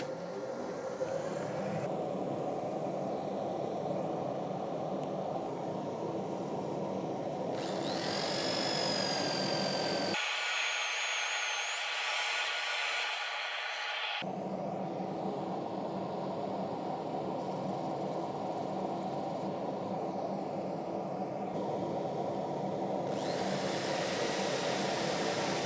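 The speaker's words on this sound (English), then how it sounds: "sanding on, lathe in reverse." Continuous whirring drone of a wood lathe running in reverse while a wooden bowl is sanded, steady and close throughout, with a brief stretch where the lower rumble drops out, leaving a thinner high whine.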